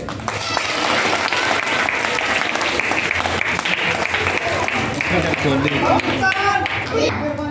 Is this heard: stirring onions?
no